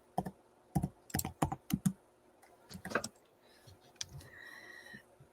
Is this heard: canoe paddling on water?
no